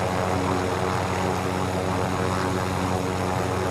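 Helicopter rotor and engine drone in the Call of Duty Warzone Plunder mode, a steady loud whir holding throughout without pause.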